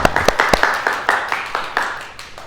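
A church congregation claps during a Sunday worship service for an anniversary celebration: a short run of sharp, irregular claps, close and moderately loud, with no voices over them.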